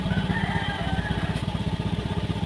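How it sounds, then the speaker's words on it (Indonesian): A motorcycle engine idles close by with a rapid, uneven chugging pulse, sputtering and hesitating like it is starved of fuel, its rhythm loping irregularly throughout. "Motor ngempos seperti telat bensin"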